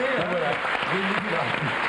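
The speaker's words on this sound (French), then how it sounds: "On va applaudir" French TV talk-show studio audience applauding, brief steady clapping heard under a voice talking throughout.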